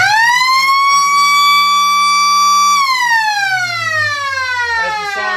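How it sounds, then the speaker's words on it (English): A loud, sustained siren at an Ballarat Football League Australian rules match, East Point versus Darley, marks the end of the third quarter, holding a steady tone before falling away in pitch as it winds down. "the siren sounds from the end of the third quarter"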